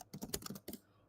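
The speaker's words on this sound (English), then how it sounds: "So I'm going to type it out for you." A computer keyboard is typed on nearby: a short burst of quick, soft clicking keystrokes in an uneven rhythm, then a pause and a few more taps before it goes quiet.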